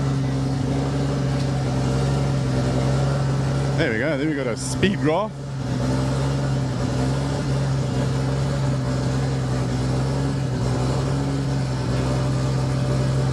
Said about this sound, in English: That noise in the background is Wade's car that's just started.